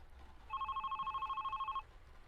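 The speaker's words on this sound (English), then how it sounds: "Should I pick up the phone?" An electronic telephone ring trills steadily for just over a second in the video game The Red Strings Club, clear and alone over a quiet background.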